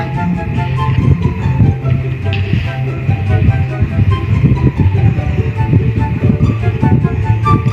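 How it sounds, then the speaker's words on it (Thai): A video game train approaches with a steady rumbling, rattling rail noise that fills the whole stretch at a constant level and does not build, with no talk over it. "มีรถไฟมา"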